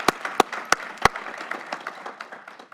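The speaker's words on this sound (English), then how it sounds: "Let's give them a round of applause." A few sharp, loud claps at the start give way to scattered, fainter clapping from an audience at a community awards celebration, thinning out toward the end.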